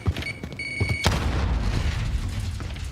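A frag grenade explodes in the Call of Duty Warzone battle royale, a single loud boom after a few brief clicks, with a long rumbling tail that fills the rest of the moment.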